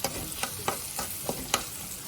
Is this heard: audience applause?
no